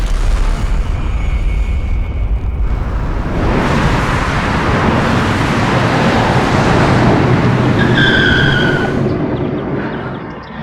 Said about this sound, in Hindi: वाह यार, तू तो कमाल की गाड़ी चलाता है।